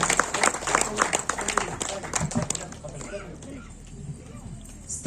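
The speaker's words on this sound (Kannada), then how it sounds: "ಎಲ್ಲ ಮಕ್ಕಳಿಗೂ ಜೋರಾದ ಚಪ್ಪಾಳೆಯೊಂದಿಗೆ ಅವರಿಗೆ ಶುಭವನ್ನು ಸಲ್ಲಿಸುವ" Loud rhythmic clapping from a gathered audience applauding children, strongest at first and thinning out over a few seconds while someone talks over it.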